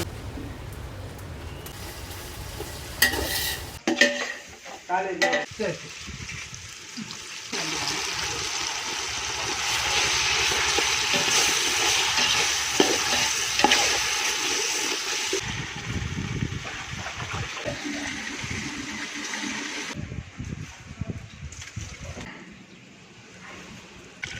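Onion, tomato, mint, coriander and green chilli for mutton biryani are stirred and fried in a pot, giving a loud, sustained sizzle with scraping and clattering bursts and a brief voice in the background.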